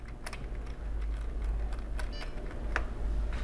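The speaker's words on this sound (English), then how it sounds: "start tapping my F12 key on my keyboard to get to the boot menu" Someone taps the F12 key repeatedly on a PS2 keyboard while a desktop computer boots, giving a series of light plastic clicks over a low hum, close and fairly quiet, without talking.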